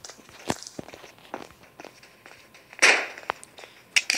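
Gunfire in the video game Block Strike zombie survival mode cracks out in sharp, irregular bursts over scuffling footstep-like noises, with one loud blast near the end.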